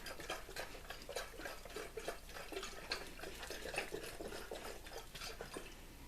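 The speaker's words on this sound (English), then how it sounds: "put the cork back on there and agitate it some more" Liquid sloshing inside a small corked potion bottle shaken by hand, a quiet, rhythmic swishing and splashing that repeats steadily at close range with no voices.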